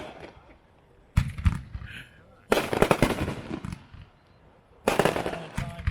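A 3-inch, 9-shot fireworks pack fires during a demo, loud bursts of crackling booms arriving in three separate volleys with fainter rumbling between them, and a voice talking over the show.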